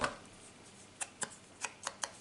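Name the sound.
cutting the corners off paper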